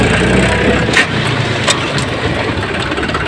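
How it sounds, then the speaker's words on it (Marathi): A Force Orchard 27 HP tractor runs loud and close, its engine holding a steady rumble while gear noise clunks through it in a couple of brief knocks. "गिअर आणि चौथा गिअर जेव्हा टाकतो मित्रांनो त्यावेळेस आवाज पहा"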